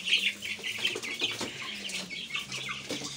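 Several caged hens on a small poultry farm cluck and squawk close by in overlapping bursts, with brief wing flutters now and then.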